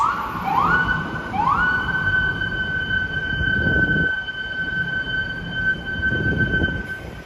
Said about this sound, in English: Sirens and sirens and sirens and screaming and sirens.